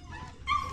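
Puppies whimper and yelp in a short burst, high thin cries rising louder halfway through over a quiet room background.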